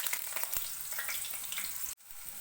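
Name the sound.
diced potatoes frying in hot oil in a kadai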